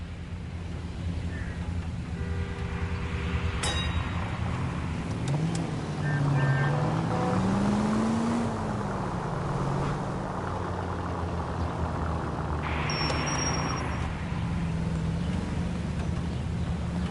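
A car drives through the city streets of the 2011 video game L.A. Noire, with a steady, loud engine drone and gear shifts that rise and fall in pitch. Occasional clicks and tones from the game sound over the motor.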